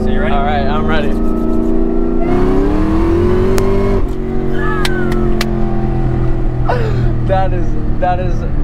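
A 2003 SVT Cobra with over 800 horsepower revs and accelerates hard with wheels spinning, a loud sustained engine roar climbing in pitch, heard from inside the car while people talk and exclaim over it.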